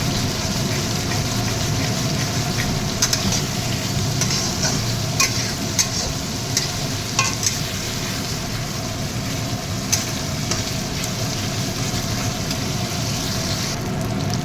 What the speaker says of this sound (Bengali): তেলের সঙ্গে ভাজা ভাজা হোক।